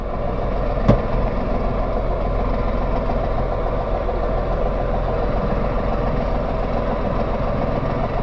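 A tractor-mounted backhoe's heavy diesel engine runs steadily as the machine pulls forward, a constant low rumble with one brief sharp knock near the start.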